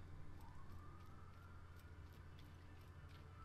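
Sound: police siren outside the window

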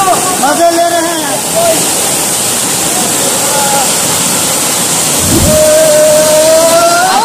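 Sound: waterfall, water falling

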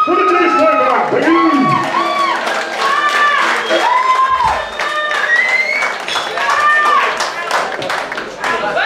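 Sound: audience applause and cheering for a live band

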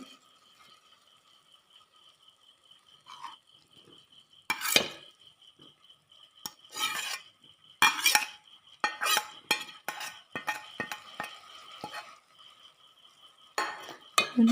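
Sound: stirring ginger garlic green chili paste into sautéing samosa filling

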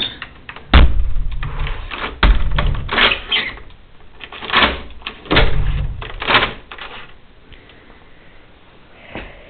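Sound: villa door being locked

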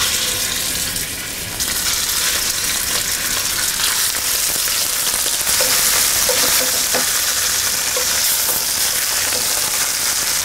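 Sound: beef roulades searing in hot oil in a pan

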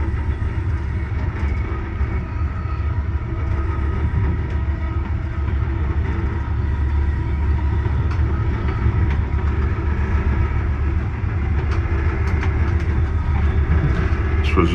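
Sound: Amtrak Pennsylvanian train 42 passing on a curve

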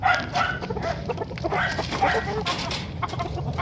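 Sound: gamecocks (fighting roosters) clucking

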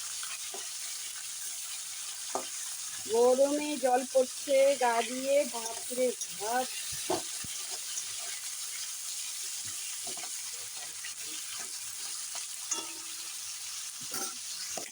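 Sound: rohu fish heads frying and being turned in pan

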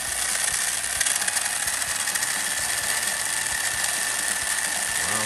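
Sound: 1987 Tamiya Hornet RC car motor running

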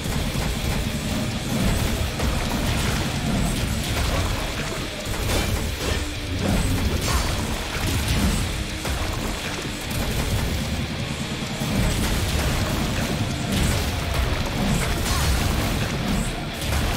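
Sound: explosions in the video game Valfaris

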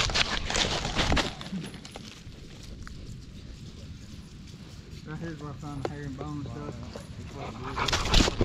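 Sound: Catahoula tracking dog

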